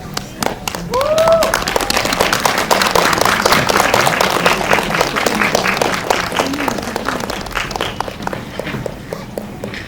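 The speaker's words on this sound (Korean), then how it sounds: "박수 주실까요?" Audience applause at a short-form drama premiere screening as the actors and director walk in, sustained loud clapping for several seconds with cheers and voices over it, thinning toward the end.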